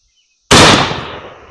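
A black powder shotgun fires a single shot, a sudden loud blast after near silence that rings out and decays over about a second.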